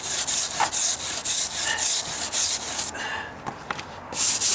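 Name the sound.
putty knife scraping along deck stair wood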